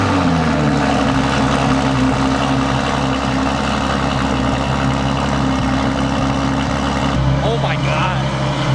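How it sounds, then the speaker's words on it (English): A supercar engine's cold start, in a setting alongside a Koenigsegg Agera and a Bugatti Chiron, gives a loud, sustained, deep engine drone that stays close and steady throughout, with voices mixed in. "that one has to be the loudest cold start I've ever heard"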